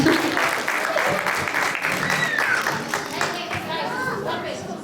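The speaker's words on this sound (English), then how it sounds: "Clap for him again." A church audience at a kids' Christmas conference applauds a child, steady clapping filling the whole stretch with a few children's voices and chatter mixed in.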